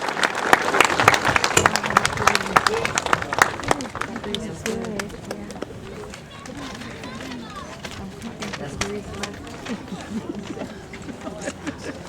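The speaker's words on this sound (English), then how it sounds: "let's give a round of applause for all these students" An audience claps and cheers for sixth grade students at a school promotion ceremony, loud at first and then thinning into scattered clapping mixed with crowd chatter.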